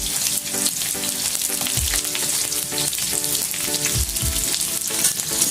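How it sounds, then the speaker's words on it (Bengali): Potatoes and vegetables fry in hot oil for a vegetable khichuri, a loud, steady, crackling sizzle that runs throughout, with a few low clunks of stirring or a utensil against the pan and no talking. "আমি এখন সবজিগুলো ভেজে নেব। প্রথমে আলুটা ভেজে নেব"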